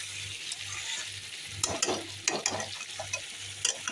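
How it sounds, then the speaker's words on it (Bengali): Chicken curry sautéing in a pan under a low steady hum, with a string of sharp spoon scrapes and clatters as it is stirred and turned, close by. "নাড়াচাড়া করে এখন ভালো করে কষিয়ে নিচ্ছি"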